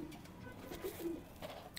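Pakistani royal pigeons coo softly, a few low murmuring calls against a faint, noisy background.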